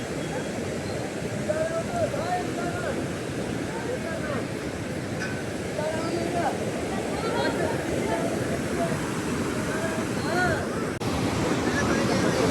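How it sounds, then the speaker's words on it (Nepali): Snowmelt-fed Seti River water rushes below a viewpoint in Pokhara, Nepal, a steady broadband roar that holds constant and fairly loud throughout, with faint voices under it. "यो रहेको छ सेती नदीको पानी तल"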